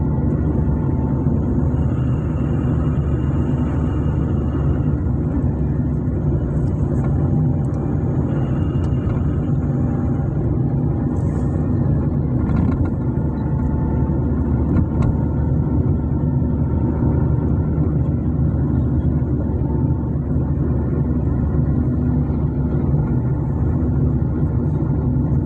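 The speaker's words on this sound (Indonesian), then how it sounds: "Terpantau siang ini lalu lintas ramai lancar." Steady daytime traffic rumbles along a busy city street in Banda Aceh, a continuous dense drone of passing engines with faint higher whines drifting in and out, no voices heard.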